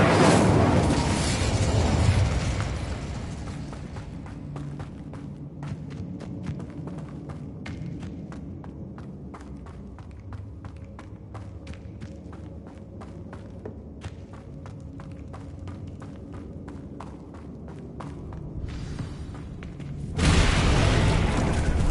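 The Incendio fire spell is cast in a video game, a loud whooshing burst of flame at the start and again near the end. Quieter footsteps and soft thuds patter in between.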